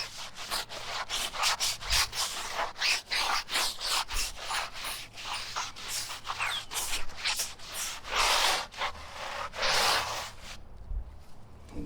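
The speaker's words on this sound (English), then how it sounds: "I'm just scrubbing it really well once and for all" A tire is scrubbed hard with a brush and Super Clean degreaser, giving a steady run of close, rhythmic scratchy strokes that continue for the whole stretch without talk.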